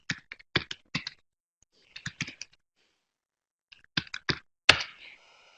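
Keys on a computer keyboard are typed to enter an email address, heard up close in short bursts of crisp clicks separated by silent pauses, ending with a louder final keystroke.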